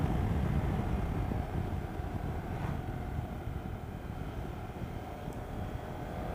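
A KTM Super Adventure S motorcycle carrying rider and pillion cruises steadily, its engine drone blended with heavy wind rush in a constant, loud broadband roar with no talk.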